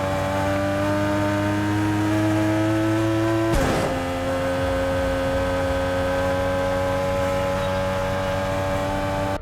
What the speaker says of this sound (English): Engine sound is completely identical to the Toyota Supra A80, the old one from the 90s